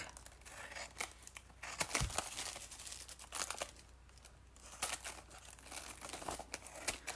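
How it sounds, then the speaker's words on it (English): Cardstock being trimmed with scissors and crinkled close up, with irregular snips and rustling handling sounds, no voices. "I'm going to trim everything that's on the outside of my cardstock."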